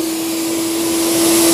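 Vacuum cleaner running on a car's interior upholstery, a steady loud whirring drone with a sharp tonal hum, continuous throughout with no talk.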